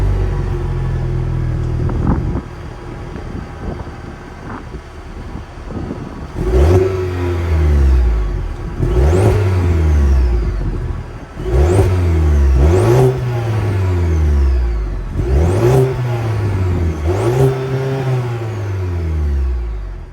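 A 2024 Cadillac CT4-V's 2.7-liter turbocharged four-cylinder with quad exhaust tips starts up and idles, then revs hard five times in a steady rhythm, each blip rising and falling, loud and close, with no talking.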